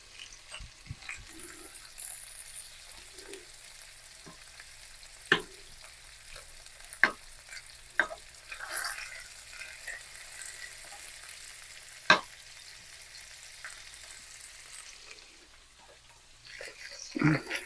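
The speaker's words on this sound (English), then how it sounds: "When the butter melts, we're going to baste the salmon." Salmon frying in melting butter with thyme and rosemary for bourbon salmon, a soft steady sizzle with occasional sharp clinks of a utensil against the pan, while a person talks over it.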